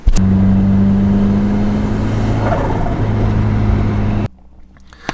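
A Miata engine held at high revs on a dyno, a loud sustained droning roar that cuts off abruptly and drops to a quiet idle.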